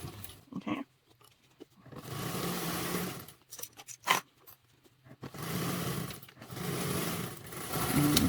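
A sewing machine stitches a quarter-inch seam on a duffle bag, running in several steady whirring bursts with short stops in between, close and fairly loud, with no talking.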